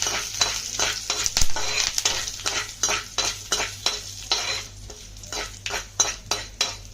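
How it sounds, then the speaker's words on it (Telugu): Hot oil sizzles with tempering spices for peanut chutney while a utensil stirs and scrapes a pan in repeated rhythmic strokes, close up, with no voices. "పోపులో ఎర్రగా వేగాక"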